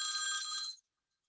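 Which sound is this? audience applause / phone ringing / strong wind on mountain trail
phone ringing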